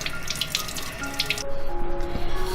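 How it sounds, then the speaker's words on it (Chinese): Water runs from a tap while a pumpkin's skin is washed, a steady close splashing rush that shifts and grows slightly louder partway through, with no talking. "南瓜先把表皮清洗干净"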